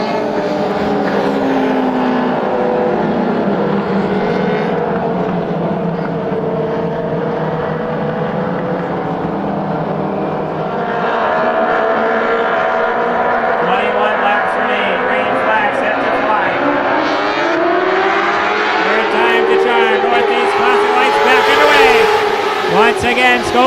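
Race cars in a Classic Lite feature thunder around an oval speedway, their engines making a loud, continuous roar that swells and shifts in pitch as they pass. An announcer talks over the noise.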